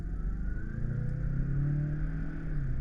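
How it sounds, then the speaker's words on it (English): A Mazda 6 with a 2.5 turbo engine hums steadily from inside the cabin while driving, its low drone rising slightly in pitch under a faint rumble of road noise. "I love how the engine sounds like."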